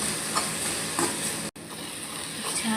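Wood sorrel chutney jam is stirred in a pan, giving a soft continuous sizzle with light scraping strokes from a spoon and a single brief dropout partway through.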